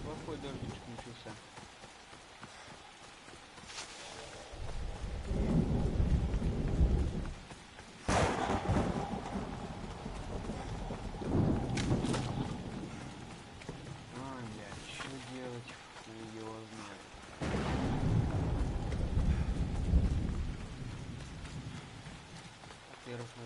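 Steady rain hiss with low rumbling thunder swells in an Assassin's Creed game world, continuous throughout, with someone talking over it.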